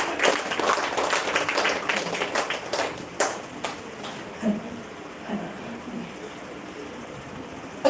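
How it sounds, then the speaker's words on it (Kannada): An audience claps to welcome a speaker at a live event, loud dense applause that thins into scattered separate claps and fades toward near quiet. "ಜೋರಾಗಿ ಚಪ್ಪಾಳೆ ಕೊಟ್ಟೋಡ ನಮ್ಮ ಸುದೀಕ್ಷಾ ಮೇಡಮ್ಗೋಸ್ಕರ"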